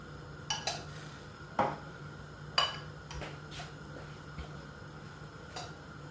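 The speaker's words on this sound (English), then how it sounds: "So I'm going to put a lid over it, let it boil up a bit." A pot lid clatters as it is set over a pot of healthy tea brought to a boil, a few distinct metallic clinks and taps spread out over a low steady hum, faint and close.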